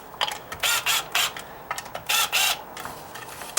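A power drill backs screws out of a wooden deck column, sounding as several short, loud whirring bursts separated by brief pauses, close up and without talk.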